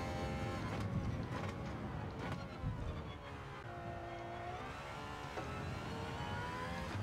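Aston Martin Valkyrie racing at the Red Bull Ring in Gran Turismo 7, a loud high-pitched engine wail rising and dipping through gear changes, steady and close with no talk.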